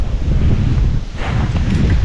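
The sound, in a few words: strong wind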